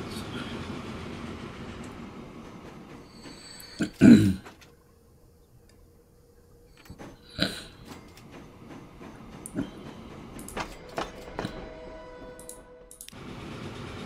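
A freight train in the simulation game Transport Fever 2 gives off sparse metallic clanks and knocks over a quiet background, with one louder thump near the start and scattered lighter clicks after it.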